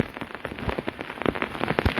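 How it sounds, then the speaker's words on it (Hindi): Heavy rain falls steadily in Mandi district, Himachal Pradesh, after overnight downpours and landslides, a dense, continuous patter of drops hitting the ground and surfaces close by, with no voices. "जंजैली मंडी में भी जी फिलहाल बारिश हो रही है"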